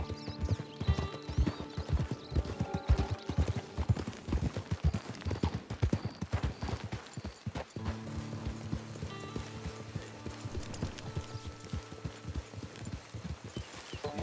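Horse hooves clip-clop steadily in the Red Dead Redemption 2 video game. A quick, even rhythm of hoofbeats continues at close range throughout, with a whinny or neigh and a background music tone in the later part and no talk.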